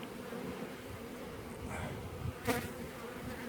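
A steady drone of honeybees fills an open hive up close, with one sharper buzzing flare as a single bee passes near, and no voices.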